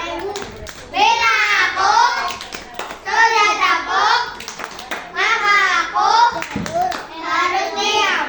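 Children in a kindergarten classroom perform the tepuk diam clapping chant, rhythmic bursts of claps mixed with their chanted voices, loud and close, repeating in several phrases across the clip.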